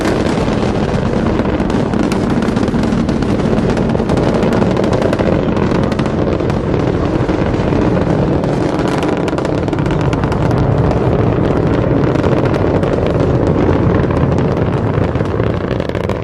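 A continuous, loud, broadband roar of Space Shuttle Atlantis's main engines during launch, throttling back, rumbling without pause and filling the whole clip, with no voices.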